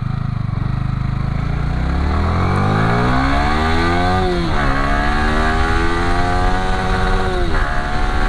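Yamaha R15 v3 motorcycle engine catching and revving up alone, loud and close, its pitch climbing steadily through repeated rising sweeps as the throttle opens and briefly dips between gears.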